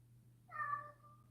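A cat gives a single clear meow, short and fairly close, in an otherwise quiet room with a faint low hum underneath.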